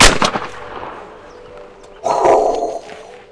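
Gunfire on a called command, a sharp report followed by a second louder blast about two seconds later, close and forceful with a short ringing decay.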